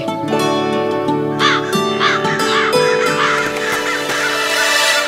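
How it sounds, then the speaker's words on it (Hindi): Crows cawing repeatedly in harsh, loud calls over a sustained musical backdrop, several caws spaced across the scene. "अब कौवे कहाँ मिलेंगे"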